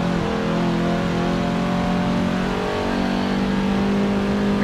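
Race car engine in Forza Motorsport 7 holds a steady, loud, continuous drone with layered harmonics, revving up and down slightly as gears are worked, close and unbroken throughout with no talk.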